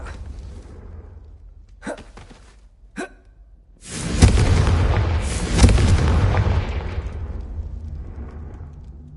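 A Confringo blasting spell fires in Hogwarts Legacy: a couple of short sharp casting bursts, then a loud booming explosion that rumbles on and swells again before fading, close and dominant, with no talking.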